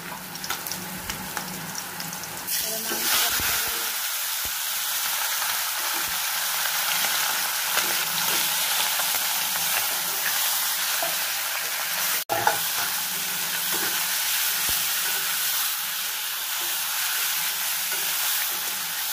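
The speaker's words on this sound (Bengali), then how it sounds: "মাংসটা এখানে কষবে।" Chicken marinated with onion, cinnamon and spices sautés for a spicy kosha curry. The loud, continuous sizzle and hiss starts with a stir and holds steady, with a sharp clatter partway through.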